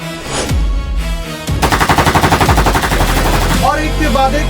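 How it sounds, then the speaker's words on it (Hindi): Rapid bursts of automatic gunfire attributed to the Iranian army firing on its own people, loud and close, with rattling volleys following a few heavier single shots and a mix of other noise. "ईरानी आर्मी ने अपने ही लोगों पर गोलियां बरसानी शुरू कर दी"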